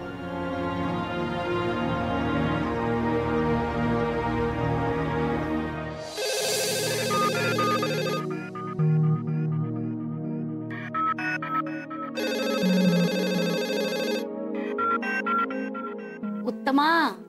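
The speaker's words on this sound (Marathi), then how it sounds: "अगं तो फोन वाजतोय केव्हाचा" A telephone rings with a repeating electronic tone in bursts, heard at moderate volume, while background music plays and people speak over it.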